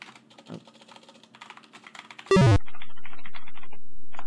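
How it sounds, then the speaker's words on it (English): Computer keyboard typing in an EGA Police Quest game, a rapid run of light key clicks over low background tones, followed by a loud, abrupt electronic beep or burst, then a sustained game tone. "A lot of typing."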